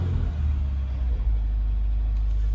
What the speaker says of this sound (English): But I'm not sure if you could hear the car.